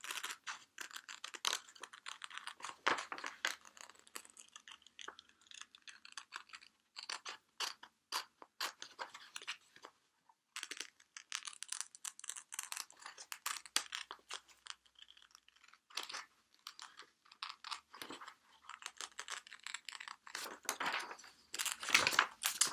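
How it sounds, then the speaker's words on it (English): Scissors snipping around the edges of paper pictures being cut out for a collage, a long run of close, quiet, irregular clicking cuts with short pauses between bursts and no talking. "I like to cut my things out quite meticulously, all the way around the edges"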